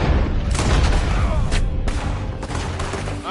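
Gunfire in the Red Dead Redemption 2 video game, a dense volley of loud, close gunshots with sharp booming cracks at a rapid irregular pace throughout.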